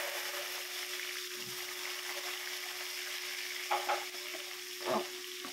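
Chopped shallots fry in oil with fennel seeds and fenugreek for a fish curry, giving a steady soft sizzle over a low hum, with a few brief stirring clinks near the end.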